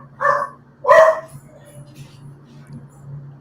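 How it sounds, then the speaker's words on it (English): A dog barks twice in quick succession nearby, two sharp loud barks, followed by a quiet low hum in the room. "Whose dog's that?"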